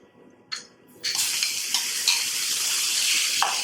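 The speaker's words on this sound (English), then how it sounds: "first we're going to put a little bit of oil in the pan, in a preheated pan. We're going to add the steak to it." Steak for Mexican street tacos laid into a preheated pan with a little oil, a small clatter followed by a loud, continuous close sizzle.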